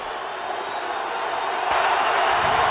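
A football stadium crowd at an FCS quarterfinal between NIU and North Dakota State swells into a sustained roar, distant and dense, growing louder toward the end.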